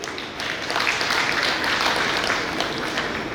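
A school audience at an annual school gathering applauds a teacher, steady dense clapping from many hands holding an even level throughout without a break.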